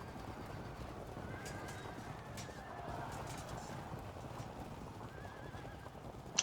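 Horse hooves clip-clopping with occasional neighs from the video game Field of Glory II Medieval, a soft low rumble of many horses under a steady battle ambience, faint and continuous, ending with a small sharp click.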